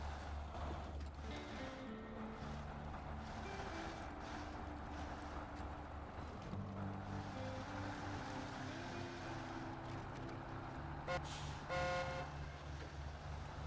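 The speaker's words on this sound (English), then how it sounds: "I didn't mean to honk, I'm sorry." A truck horn honks in the off-road driving game Snowrunner. It gives a short, bright blast near the end over a steady, loud engine drone, with no speech.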